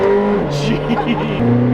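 A McLaren Senna hypercar engine drones and revs close by, a steady loud mechanical tone with pitch shifts as it changes speed, voices faintly mixed in.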